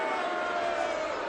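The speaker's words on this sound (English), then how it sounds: "Crowd in boisterous form in the closing stages of this match" Boisterous darts crowd at the UK Open final between Price and Wright, a steady, dense roar of many voices filling the arena without a break.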